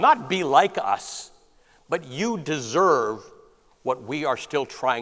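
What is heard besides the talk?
No distinct noise like a dog, phone or traffic.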